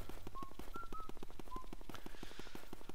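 Luigi whistles a short, bright tune in Luigi's Mansion, a few clear notes sounding faintly over a rhythmic, pulsing game soundtrack.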